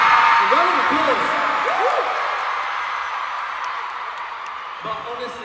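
A concert crowd at a world tour show in Newark cheers and whoops from a distance with scattered applause, fading under a performer's amplified voice.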